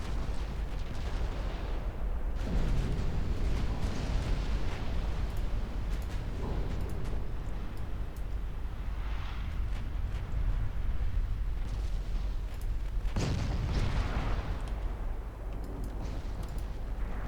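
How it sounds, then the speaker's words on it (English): Heavy booming blasts from cruiser torpedoes striking ships in a 1954 naval warfare game, Ultimate Admiral Dreadnoughts, several deep bursts rising over a constant loud battle rumble. "Let's get my cruiser torpedoes away as well."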